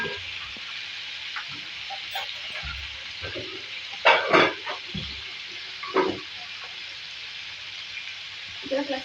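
Chicken fries with spices in a pan, a steady sizzle broken by a few louder scraping and clattering bursts, with some speech nearby.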